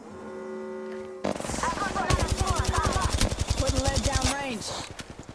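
Rapid bursts of automatic gunfire in an Apex Legends Mobile firefight, loud and close, with a sharp onset followed by dense repeated shots and weapon sounds across most of the stretch.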